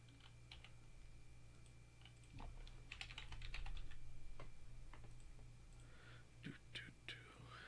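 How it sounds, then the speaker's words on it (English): Keys clatter on a computer keyboard in irregular bursts during an online voice call, with a steady low hum underneath and some faint murmuring voices. "go ahead while Coyote is typing"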